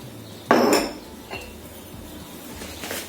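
Boiled potatoes being mashed in a metal pot for a broccoli purée, with a sharp clanking hit followed by a few lighter metallic knocks and scrapes, close and isolated.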